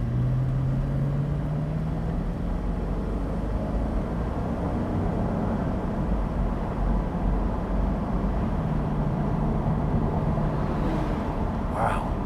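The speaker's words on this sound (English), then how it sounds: "I'm gonna accelerate a little bit harder" A 2003 Mercedes-Benz SL accelerating harder, heard from inside the cabin as a steady, even drone of engine and road noise that holds at one level throughout, with no talking.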